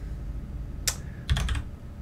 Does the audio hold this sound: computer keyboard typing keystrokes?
yes